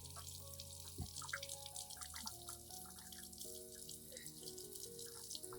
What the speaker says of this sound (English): After pruning, rinse the entire plant thoroughly with clean water.